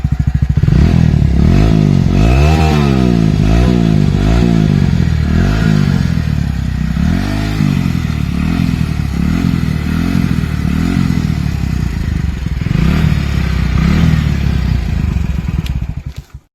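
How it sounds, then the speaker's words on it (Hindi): Loud Hero Splendor motorcycle exhaust roars up close, revving up and down in repeated surges before cutting off abruptly at the end. "और साइलेंसर की आवाज़ अभी आप सुन सकते हैं।"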